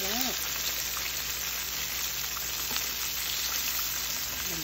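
Chicken frying in hot oil, a dense even sizzle with faint popping that holds steady throughout, close up and fairly loud, with no talking.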